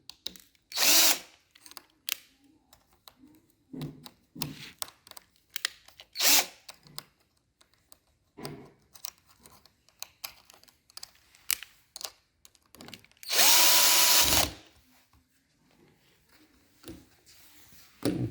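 A power drill driving screws into a wardrobe whirs in short bursts between clicks and handling noises, with one longer, louder run near the end; close and without speech.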